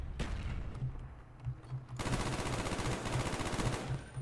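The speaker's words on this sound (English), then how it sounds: "A napalm strike. Let's throw this out right there." A napalm strike lands in Call of Duty Black Ops 1 on the Hanoi map, starting as scattered gunfire and then swelling into a loud, continuous roaring blaze with rapid crackling shots underneath.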